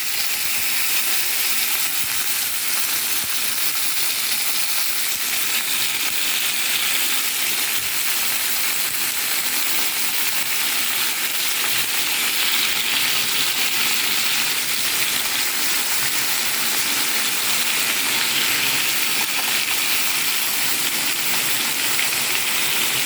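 Potatoes dropped into hot oil with onions already fried light brown, hissing and sizzling in a continuous, even crackle that stays loud and steady from start to finish, with no voices.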